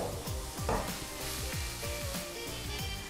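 Mushrooms frying in oil in a pan sizzle steadily, with repeated stirring scrapes at a regular rhythm, close and fairly quiet.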